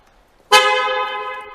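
After a short silence, a single car horn beep from a car's remote locking system sounds nearby, loud and brief, fading slightly as it holds, with no speech.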